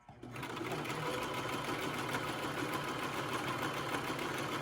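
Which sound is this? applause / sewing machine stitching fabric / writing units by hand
sewing machine stitching fabric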